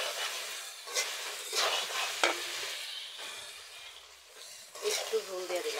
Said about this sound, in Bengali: এই যে মাছ আর বেগুন দিয়ে দিলাম